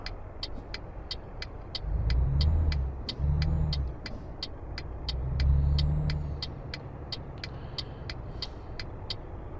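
A truck in Euro Truck Simulator 2 pulling away, its low engine rumble swelling twice as it gains speed, while a steady, evenly spaced ticking, like a turn signal, runs throughout.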